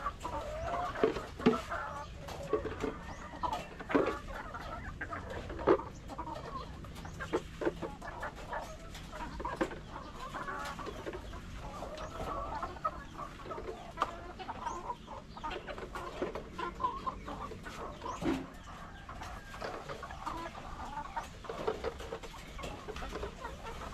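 A flock of chickens in a poultry pen clucks and murmurs nonstop while eggs are gathered, with sharper squawks now and then over soft rustling and handling noises, close and busy with no talking.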